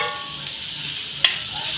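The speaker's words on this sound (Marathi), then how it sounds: "त्याच्यानंतर आपण अद्रक लसूण पेस्ट केली ती टाकायची आहे तेलामध्ये" Ginger garlic paste fries in hot oil with cumin and mustard seeds, a steady bright sizzle with a sharper crackle and spatter near the end, close and without talk.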